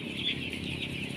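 Ten-day-old broiler chicks in a poultry house, a dense close chorus of peeping and chirping with soft clucks, steady throughout.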